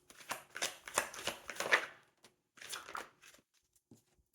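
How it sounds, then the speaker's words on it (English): Rider-Waite tarot cards being shuffled up close, a few quick riffling bursts of papery flutter separated by short pauses, then a couple of soft taps. "I'm going to take 3 cards here from Rider-Waite"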